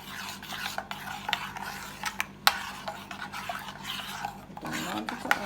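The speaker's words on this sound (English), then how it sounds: "So there goes coconut milk. I'm gonna stir this in." Coconut milk being stirred into Jamaican cornmeal porridge in a pot, a steady soft scraping and swishing with occasional light clinks of the spoon against the pot, close by.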